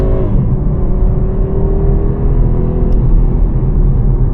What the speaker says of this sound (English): And the engine starts to actually get alive once you use the pedals.